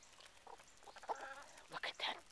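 Hens cluck and a rooster calls in short bursts in a farmyard, close by, with a faint voice in the background.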